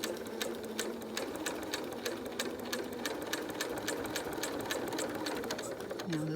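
A sewing machine stitches steadily through thick, tough face mask fabric, its needle producing a rapid, even run of clicks, close and continuous with no talk over it.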